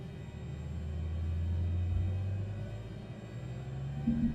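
An aircraft engine in Microsoft Flight Simulator 2020 starting up and settling into low idle, a steady low rumble with a slight shift partway through, fairly loud and continuous with no talking.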